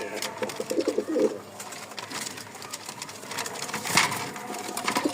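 White Lakkha pigeons coo softly in a loft, low murmuring calls repeating under a faint mechanical hum.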